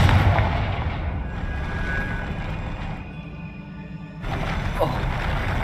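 A Confringo blasting spell explodes in the Hogwarts Legacy video game, a loud booming burst with rumbling aftermath that fades, then a second blast near the end.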